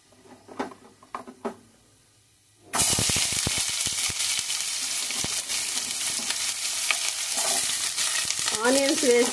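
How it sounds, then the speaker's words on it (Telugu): Chopped onions hit hot oil in a pan after a quiet moment, bursting into a loud, steady close sizzle with stirring scrapes throughout, no talk. "కట్ చేసి పెట్టుకున్న ఆనియన్స్ వేసుకోవాలి."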